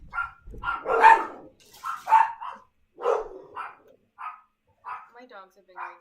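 Several dogs bark and yip at home in quick irregular bursts, fairly close and loud, with a brief whine near the end.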